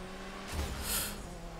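A short tire screech from a car skidding in the PS5 game Destruction AllStars, rising briefly over a steady engine hum and fading out again.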